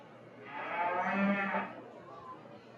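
A single beef cow moos once at a cattle show, a drawn-out low call rising and fading over about a second, fairly close against faint background hum.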